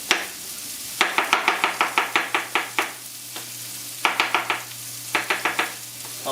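Steak cooking in a pan with shallots, mushrooms, garlic and butter, heard as rapid bursts of scraping and stirring over a steady sizzle in two busy runs separated by a quieter pause, close and fairly loud with no talking.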